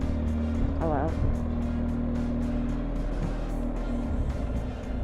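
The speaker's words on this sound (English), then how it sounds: "Got to overtake all these bloody cars again now." Cars on a road are passed from a BMW motorcycle during a Highlands and Islands tour, a steady traffic and engine roar under wind, with people talking over it.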